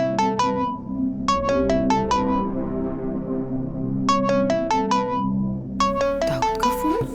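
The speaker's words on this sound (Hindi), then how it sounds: "सुबह किसका फोन आ गया?" A phone ringtone plays loud and close, repeating bursts of bright electronic tones over a sustained melodic backing, no voices.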